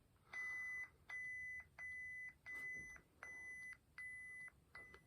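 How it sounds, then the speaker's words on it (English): A Legionaire Crimson Proffie core lightsaber gives a series of seven sharp electronic beeps, evenly spaced with short gaps, each a steady held tone that grows slightly quieter toward the end, with no talking. "you'll hear the volume and the beeps start getting quieter and quieter"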